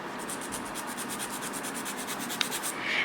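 A nail file rasps back and forth across gel nail tips in quick, regular strokes, close and fairly faint, a dry scratchy rubbing with a small tap near the end.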